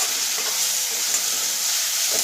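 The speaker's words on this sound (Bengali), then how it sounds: "এটাকেও পেঁয়াজের সঙ্গে আরও 2 মিনিট ভেজে নেব।" Garlic paste frying with chopped onion in hot oil for chilli chicken, a steady close hiss of sizzling with faint stirring scrapes throughout.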